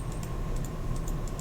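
A computer mouse is left-clicked repeatedly while a point path is traced, giving light, crisp clicks at a quick uneven rhythm over a low steady hum.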